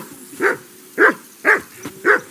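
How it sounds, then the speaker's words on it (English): Four sharp dog barks spaced about half a second apart, loud and close, from a dog in the medieval role-playing game Kingdom Come Deliverance 2, with no talking. "I assume you can hear that damn dog of yours"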